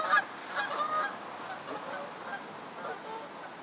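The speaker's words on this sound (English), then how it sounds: "I just saw Canadian geese." Canada geese honk repeatedly in the open near a park, a faint flurry of nasal calls at moderate distance with steady outdoor background noise.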